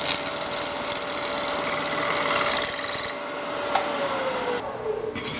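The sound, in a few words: wood on a lathe scraped flat with straight edge scraper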